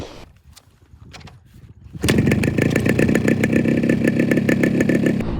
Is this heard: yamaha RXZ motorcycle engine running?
yes